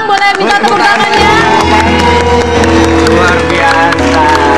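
A TV-show studio audience applauds and cheers as a bride and groom arrive at a wedding reception segment, a dense, loud wash of clapping and crowd noise with music underneath, continuous throughout.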